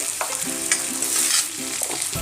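Fish sizzles in hot oil with turmeric in a pan while being stirred, giving a loud, close frying hiss broken by repeated spoon scrapes and clacks.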